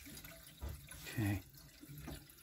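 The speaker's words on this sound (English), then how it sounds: "You can hear the radiators filling up." Water gurgles and trickles faintly through central heating radiators and pipes as the system refills, a quiet run of bubbling surges and drips.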